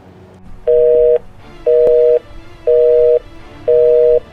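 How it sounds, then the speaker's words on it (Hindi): A telephone line gives a repeating call tone, four evenly spaced steady beeps about half a second each, loud and clear, with quiet gaps between them and no talking. "देखा स्विच ऑफ है फ़ोन।"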